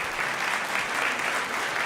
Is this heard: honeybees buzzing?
no